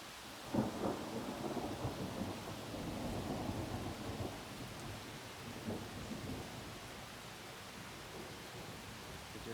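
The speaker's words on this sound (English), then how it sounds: "thunder and lightning, I think it's passing through now. Just getting the rain." A thunderstorm passing over a rocky Appalachian Trail ledge near Erwin, Tennessee: steady rain hisses throughout, and a low thunder rumble swells early and rolls on in the distance.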